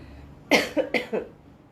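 Two quick, harsh coughs close by, each with a short follow-up burst, then quiet.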